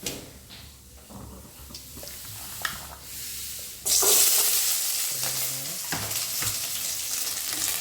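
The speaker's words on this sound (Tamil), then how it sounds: "எண்ணெய் காஞ்சிருச்சு அது போட்டுக்கலாம் கடலப்பருப்பு கொஞ்சம் போட்டுக்கலாம்" Chana dal dropped into hot groundnut oil for a bitter gourd tamarind kuzhambu, a sudden loud hiss and crackling sizzle that bursts in midway and keeps bubbling steadily, after quieter clinks and stirring.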